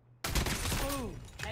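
Call of Duty Mobile gunfire in a Search and Rescue match, a sudden loud burst of shots with a rolling blast tail, dense and close, with a voice speaking over it.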